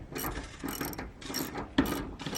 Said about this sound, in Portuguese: apertando as porquinhas aqui nesses parafusos do meio